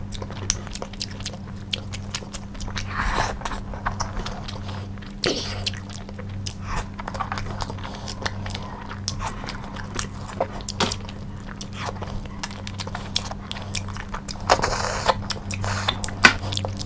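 Close, steady chewing and soft crunching of spicy mutton korma, Indian food eaten mukbang-style, with repeated bites and mouth sounds over a low constant hum and no talking.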